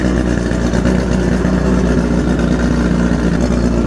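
The two-stroke outboard motor on an old Bass Tracker boat, about 40 years old, runs loud and steady, a close, even buzzing drone with no pauses.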